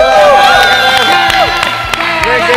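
A crowd cheers, whoops and claps for a female basketball player after a game, loud shouting voices rising and falling over scattered applause close by.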